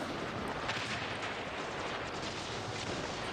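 Rocket fire in the War Robots mech combat game booms and rumbles as a dense, continuous barrage of blasts, steady and fairly distant throughout.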